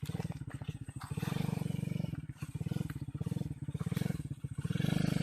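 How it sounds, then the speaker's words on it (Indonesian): A motorcycle approaches through forest, its faint engine note pulsing and surging in uneven waves as it works along a rough track, heard from a distance with no talking. "kayaknya ini suara sepedanya motornya Pak Andi"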